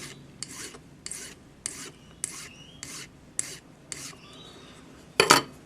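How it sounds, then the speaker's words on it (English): A metal file rasps silver wire ends flat for a jewelry pendant, about eight short, even back-and-forth strokes, close and clear, ending with a sharper scrape. "File the ends flat."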